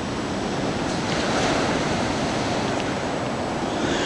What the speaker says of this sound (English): Oh look, the ocean's coming up.